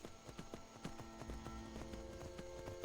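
A horse gallops in Skyrim, its hooves giving a quick, even run of clip-clop beats at moderate distance over low game ambience.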